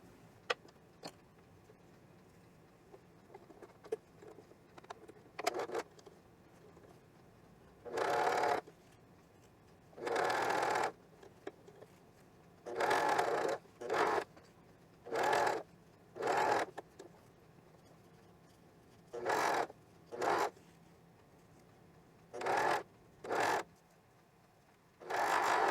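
Cover stitch machine sewing elastic onto an underwear leg hole, heard as about a dozen short bursts of whirring stitching separated by quiet gaps with faint handling clicks, close and soft.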